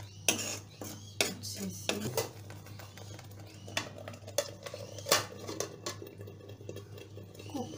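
A spoon scrapes and clinks against a pan while mutter-paneer curry is stirred, irregular metallic taps and soft scraping close by over a low steady hum, with a brief word spoken.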